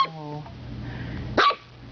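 A small dog gives a high whimpering yip at the start and a sharp bark later, both close, while a person talks softly in between.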